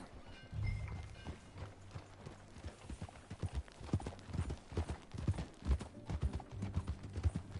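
Horse hooves clip-clop in a steady, fairly close galloping rhythm as a rider sets off in the Red Dead Redemption 2 video game, with low background rumble and faint movement sounds throughout.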